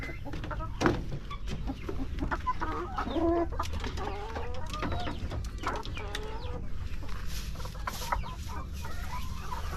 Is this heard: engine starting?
no